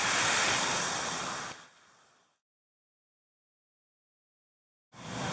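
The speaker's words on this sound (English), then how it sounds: "It's spitting water right now." Water gushes loudly from a Millennium Park fountain in Chicago in a broad steady rush, fades over a couple of seconds to silence, then surges back at the end.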